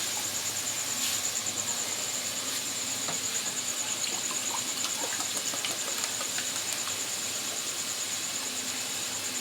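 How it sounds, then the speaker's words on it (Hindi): Water poured over a block of jaggery in a cooking pot makes a continuous soft trickling, splashing stream with small ticks, held at an even moderate level from start to finish and heard alone. "ये मैंने पानी डाल दिया"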